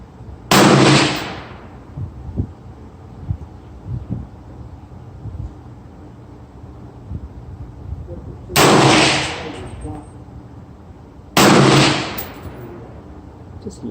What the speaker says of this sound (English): I'm taking the first shot with the Fiocchi